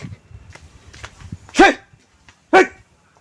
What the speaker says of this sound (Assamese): চালা কুকুৰ আহি গৈছে বে